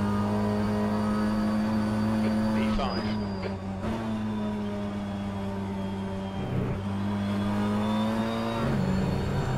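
BTCC touring cars race at Brands Hatch in rFactor 2, the steady droning engine note rising and dipping with gear changes and lifts, several cars audible together at close range.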